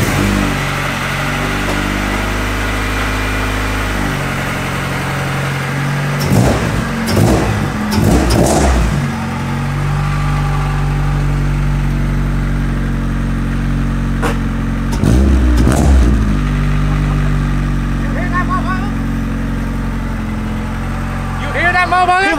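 A Honda Civic fitted with a new aftermarket exhaust idles with a steady mid-pitched drone, then revs hard in two loud bursts and a later shorter one, close by, with people talking in between.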